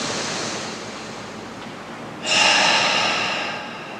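A slow, deep inhale through the nose during a guided yoga breathing exercise, a soft airy rush that swells suddenly and holds steady, close and alone without talk.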